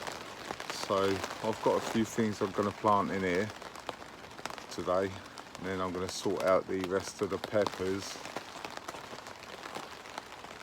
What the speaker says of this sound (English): You can probably hear it's pouring down outside